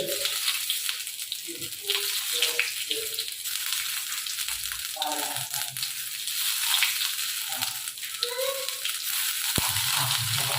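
Dry red chilli, whole flattened rice, tempering spices and ginger sizzle in hot oil, a steady broadband hiss lasting throughout with scattered crackles and a few faint voice fragments underneath.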